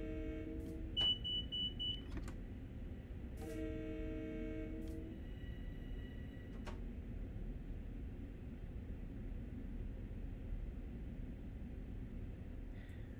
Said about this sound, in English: And you do sound your whistle as you go under this little section.